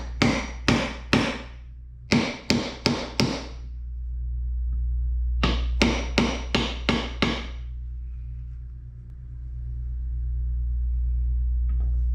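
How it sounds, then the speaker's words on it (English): A hammer taps a metal part while assembling an NP208 transfer case, in quick bursts of sharp, ringing strikes, four or five at a time, with pauses between, over a low steady hum. "Like I could take the hammer and start it like this"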